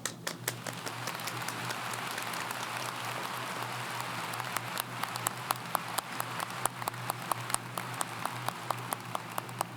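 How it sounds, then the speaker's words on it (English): Crowd applause at a 2019 university graduation commencement ceremony, a steady patter of clapping with sharp individual claps standing out, heard slightly distant and without voices. "Please join me now for a global round of applause."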